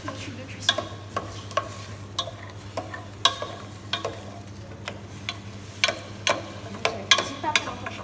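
A spoon scrapes and stirs a deglazed pan with a splash of water to loosen browned cooking residue, producing repeated close clinks and scrapes over a soft steady sizzle.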